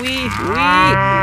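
A single long cow moo, loud and close, rising slightly and then holding steady for about a second, with no other sound around it.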